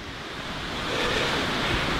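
Wind gusts roar across the microphone during an outdoor hike in a broad, rushing noise that swells in the middle, with no talking.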